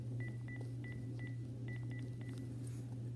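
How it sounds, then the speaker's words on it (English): A telephone dials with a quick series of electronic touch-tone beeps in uneven bursts, heard over a steady low hum. "Okay, I got the phone. Let me call my friends."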